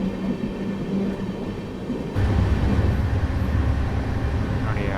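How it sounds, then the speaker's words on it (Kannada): Belagavi–Mysuru Express passenger train running, a steady loud rumble of wheels and carriage that swells heavier partway through, heard from on board. "ಈಗ ಚಿಕ್ಕಜಾಜೂರ್ಗೆ ಆ ಟ್ರೈನ್ ಎಂಟ್ರ್ ಆಗಿದೆ."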